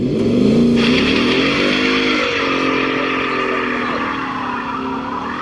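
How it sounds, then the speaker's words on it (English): A Ford Mustang GT's V8 engine revs hard and close, its pitch climbing and then sliding back down as the throttle eases off, loud and alone. "The V8 on this, that's another party trick in its own"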